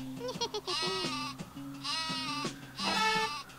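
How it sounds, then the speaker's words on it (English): Repeated bleats from the super sheep weapon in the Worms Armageddon video game, several wavering sheep cries in short bursts across a few seconds, fairly loud and clear with no speech. "I have to waste my super sheep to guarantee that he dies."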